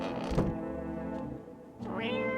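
A cat meows in the video game No, I'm Not a Human, a drawn-out cry at the start and another rising call near the end over a steady hum of game ambience.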